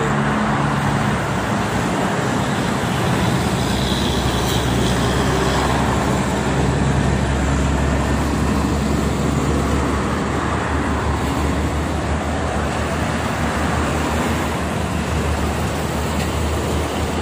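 Heavy trucks and other traffic roll past on the Jakarta-Cikampek toll road in the morning, a steady, dense roadway roar with a deep low rumble that holds throughout with no clear gaps.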